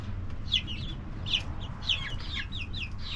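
Chicks in an indoor coop chirp and cluck in short bursts throughout, with a low steady hum running underneath them.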